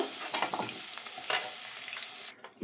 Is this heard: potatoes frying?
yes